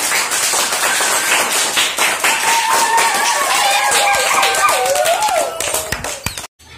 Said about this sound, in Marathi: चला सगळ्यांसाठी एकदा जोरदार टाळ्या होऊन जाऊ द्या.